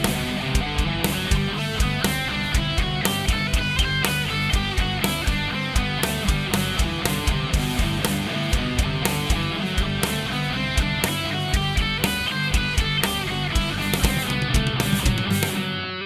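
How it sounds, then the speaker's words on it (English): An electric guitar plays a rapid run in which each note is picked separately, giving a dense, even stream of distinct plucked attacks. It is loud and continuous throughout with no talking. "instead of picking each note like this,"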